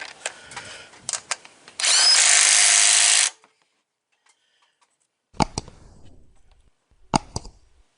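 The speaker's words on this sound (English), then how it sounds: "Helps if you got the right size socket, which on this actually is 13 millimeter." Socket wrench with a 13 mm socket on a bolt of a 2007 Jeep Wrangler: quick ratcheting clicks, then a sustained roughly one-second power-tool whir, a pause of silence, and further sparse clicks close by.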